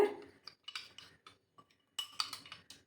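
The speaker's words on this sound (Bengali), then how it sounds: "সমস্ত মশলাটাকে আমি গুলিয়ে নিচ্ছি" A spoon mixing Kashmiri chilli powder with water into a spice paste in a small bowl, making a series of light, close clinks and scrapes in irregular bursts with quiet gaps between them.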